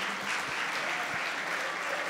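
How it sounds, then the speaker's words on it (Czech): Audience applause at the Zlatá koruna 2019 award gala, a steady even patter of clapping from a hall crowd, moderately loud and continuous through the moment. "Potlesk prosím."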